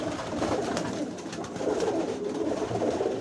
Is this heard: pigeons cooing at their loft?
yes